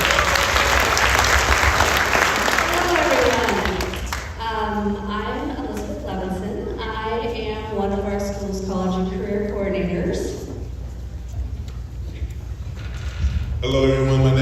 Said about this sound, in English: Clap it up for them real quick